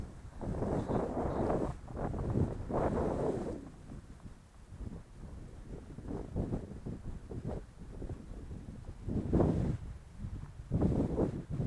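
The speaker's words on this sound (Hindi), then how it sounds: "इतना सुंदर हवा चल रहा है यहाँ पर।" Wind sweeps across open green village fields in rural India, gusting unevenly and buffeting the microphone in loud, rumbling surges that rise and fall.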